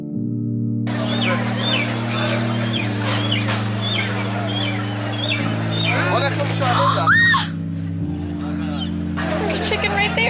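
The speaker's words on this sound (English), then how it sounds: "There's a chicken right there." Chickens squawk and cluck amid a dense, noisy crowd at an outdoor Kaporos ritual, with people talking loudly throughout.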